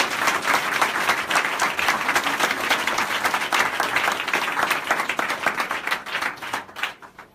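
A church congregation applauds the Lord during a service, with loud, dense, sustained clapping from many hands that keeps going steadily before thinning out and fading near the end.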